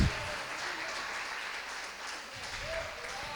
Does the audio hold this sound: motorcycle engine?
no